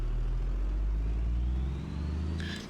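Engine of an Uzbek bus in BeamNG.drive pulling away, a steady deep low drone with a slowly rising pitch that dips briefly near the end, followed by a short higher tone, with no voices.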